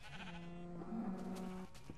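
A sheep in a pixel-style video game lets out a sustained, wavering bleat lasting over a second, clear and fairly close against faint game ambience.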